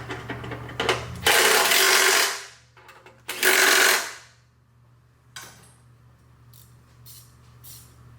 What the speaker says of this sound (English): We'll just finish off with the drill and make it just a little quicker.